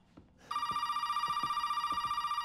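A telephone rings in a video game, a sudden electronic bell tone starting after a brief pause and pulsing rapidly and steadily, loud and close over faint thumping footsteps.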